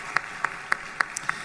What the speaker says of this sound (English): let's give them a round of applause to all of our sponsors and each of you who bought tickets to be with us today.